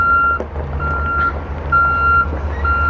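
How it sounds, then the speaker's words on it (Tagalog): A school bus pulls up with a loud, close reversing alarm, repeated high beeps over a low diesel engine drone, and no talking. "Ayan na guys, andito na yung bus."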